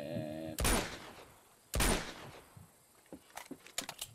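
Two loud, sharp gunshots in Uncharted 2: Among Thieves, spaced about a second apart and close, followed by softer scattered thuds and clicks.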